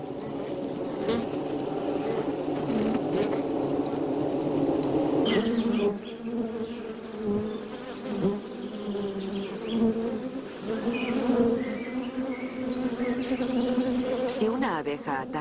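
Dense, continuous buzzing of many honeybees in a hive, a thick droning hum that persists throughout with slight swells in intensity.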